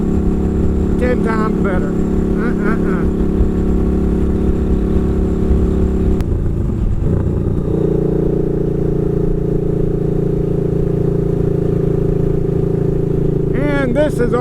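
A motorcycle engine hums steadily and close throughout the ride, with a brief shift in pitch midway, while a person talks over it.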